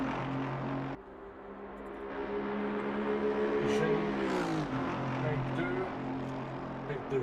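Aston Martin race car engine in a racing video game at Monza, a steady harmonic drone that rises in pitch and sweeps down around the midpoint, running continuously under commentary talk.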